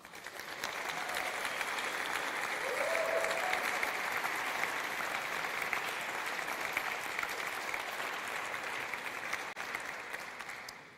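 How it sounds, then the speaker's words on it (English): Steady applause from an audience at the Cardano Constitutional Convention signing ceremony, a broad wash of clapping that holds evenly for about ten seconds before tapering slightly at the end. "I kindly ask for your applause"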